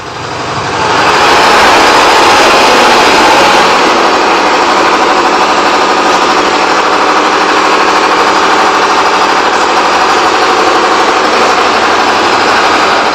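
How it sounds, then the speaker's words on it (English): A large, old corn grinding machine engine starts up and runs loudly, a harsh, steady mechanical roar that continues without pause. "the old corn grinding machine, just that it's huge, it spews fuel exhaust, and it's really loud"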